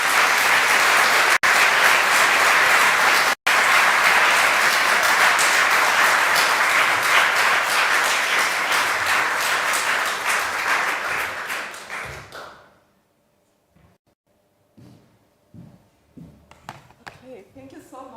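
Loud, sustained audience applause in a hall after an inaugural university lecture, steady for about twelve seconds before fading out, followed by a quiet stretch with a few faint sounds.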